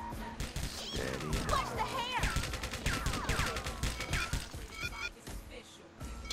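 Rapid gunfire from a street shootout in True Crime: Streets of LA, with bursts of shots and crashing impacts rattling on and off throughout, mixed with game voices and effects.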